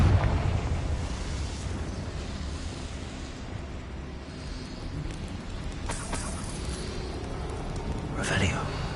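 A Bombarda blasting spell in Hogwarts Legacy, a rumbling burst with crackling debris, later sharp pops and a bright whoosh, with a voice speaking over the blasts.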